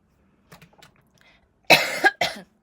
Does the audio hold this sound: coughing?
yes